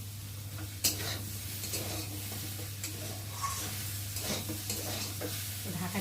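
Vegetarian soybean curry frying in a pan while being stirred, a soft continuous sizzle with scraping spoon strokes and a sharp clink near the start, under a low steady hum.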